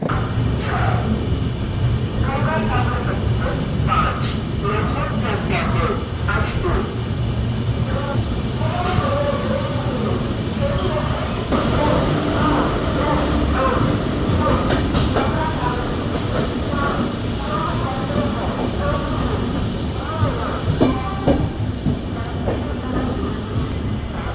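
A passenger train rolls past Raniganj station toward Asansol Junction, its steady rail rumble and rhythmic wheel clatter filling the whole stretch at close range, with faint voices murmuring in the coach.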